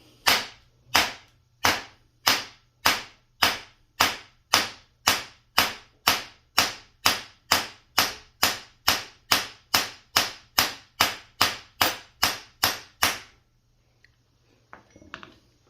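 Hammer strikes beating on the castle nut of a Suzuki DR200 motorcycle, about two dozen sharp metallic taps in an even, steady rhythm, then a pause with a few faint handling knocks.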